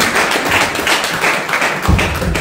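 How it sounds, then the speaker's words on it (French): An audience applauds steadily, a dense wash of many hands clapping together with a few thuds, moderately loud and continuous throughout. "Est-ce qu'on peut les applaudir, s'il vous plaît?"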